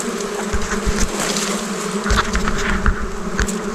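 Bees swarm around a newly built wild honeybee nest outdoors, their loud, dense buzzing droning steadily up close with no break.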